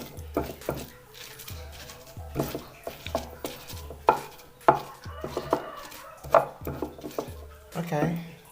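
Grilled oncom being crushed to a coarse, not-too-fine texture for Sundanese nasi tutug oncom from Tasikmalaya: a steady run of close, dull pounding knocks roughly twice a second, with brief faint voice-like sounds near the end.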